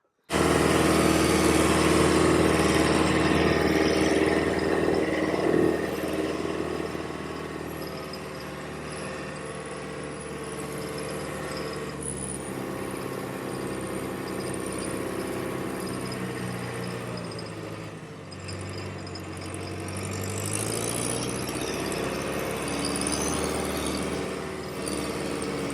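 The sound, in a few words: farm tractor engine running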